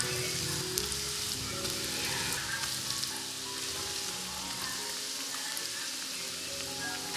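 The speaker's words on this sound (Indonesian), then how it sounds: "sekarang aku mau langsung goreng aja di minyak yang udah dipanasin" Macaroni balls deep-fry in heated oil, giving a dense, even sizzle with crackling pops that carries on without a break, close and moderately quiet, with no voices.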